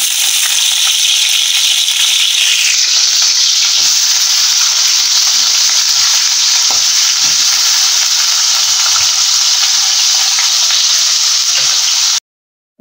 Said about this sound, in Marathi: पहिला तेल थोडं जास्त घालायचं आहे आणि त्याच्यामध्ये आधी बटाटे परतून घ्यायचे। बटाटे असे फ्राय केल्यासारखे करून घ्यायचे